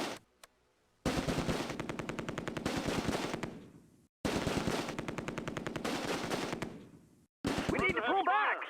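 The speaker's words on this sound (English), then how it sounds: "The Schwerer's heavy machine gun sets up in one of the ruins." A German heavy machine gun in the Close Combat war game fires two long sustained bursts of rapid shots, loud and close, separated by a brief pause, with a voice shouting near the end.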